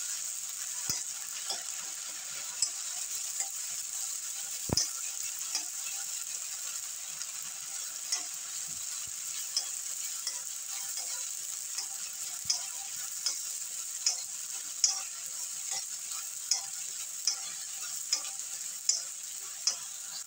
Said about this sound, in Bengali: এবার এটা ভেজে নেব।